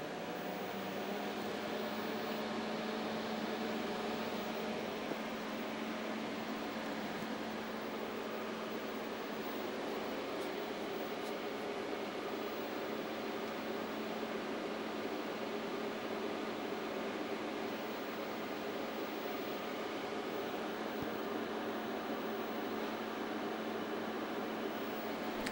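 Quantel DPB 7001 digital video hardware powered up, its cooling fans giving a steady, unbroken broadband hum and whoosh throughout, with no voices.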